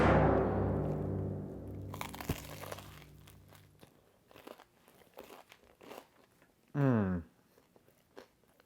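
Crunchy toasted bread topped with tomato confit bitten close to the mic, a loud crackling crunch followed by quieter chewing crunches.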